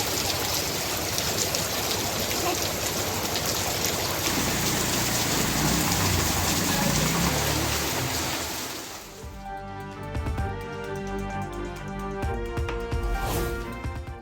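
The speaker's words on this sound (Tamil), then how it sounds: "செம்பாக்கம், முடிச்சூர், அஸ்தினாபுரம், நன்மங்கலம் உள்ளிட்ட பகுதிகளிலும் பலத்த மழை வெளுத்து வாங்கியது." Heavy rain pours down in a dense, loud, steady rush for most of the stretch, then eases into a lighter patter of drips and splashes near the end.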